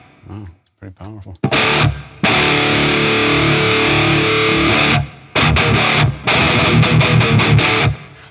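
Heavily distorted electric guitar through a Laney Lancaster amp with a touch of reverb, loud riffing in several bursts separated by short gaps, with brief muted string noise before the playing.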